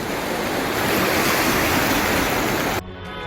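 The Tamsa river in Maharashtra, flooded above the danger mark, rushes with a loud, dense, continuous roar of turbulent water before cutting off abruptly near the end.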